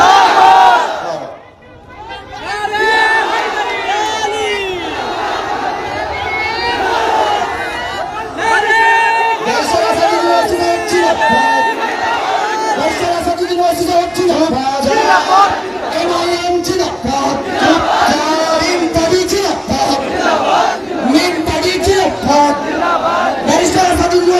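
A large crowd at an AIMIM political rally on the Karbala ground in Kaliachak roars back in unison to a Takbir slogan chant, with sustained loud shouting and cheering after a brief dip at the start.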